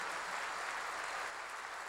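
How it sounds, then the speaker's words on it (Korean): A church congregation claps together in a steady, dense wash of applause, loud and continuous with no voices rising above it. "깨달은 사람은 세게 박수 좀 치세요."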